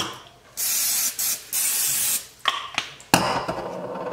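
Cooking spray hisses onto a waffle iron in several quick bursts, sharp and close, separated by short pauses, with one final longer spray.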